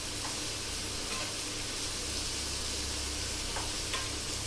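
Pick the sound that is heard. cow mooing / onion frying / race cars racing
onion frying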